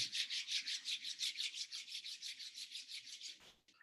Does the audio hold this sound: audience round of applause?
no